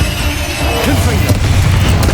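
A Confringo blasting spell explodes in Hogwarts Legacy, a loud booming crash with crackling debris over a dense, rumbling game soundscape.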